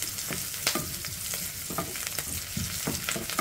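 Garlic and onion sautéing in a pan for a mixed vegetable dish: a soft, continuous sizzle with scattered light clicks from stirring, fairly quiet and close.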